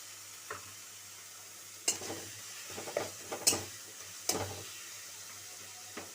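Ginger paste being stirred into onion and tomato frying in a pan, with intermittent scraping stirs and soft sizzling bursts over a low steady hiss.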